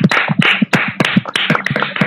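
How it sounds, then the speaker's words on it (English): Several online meeting participants clap through open microphones, a close, uneven patter of distinct hand claps spread across the whole span, without speech. "let us give him a round of applause"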